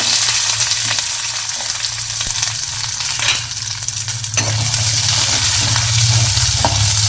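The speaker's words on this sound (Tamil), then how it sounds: "கொஞ்சம் கடுகு கடுகு பொரியுது அடுத்து வெங்காயம் மிளகா கருவேப்பு" Mustard seeds splutter in hot oil alongside frying onion, chilli and curry leaves, producing a loud, continuous sizzle with crackling pops and occasional stirring close by.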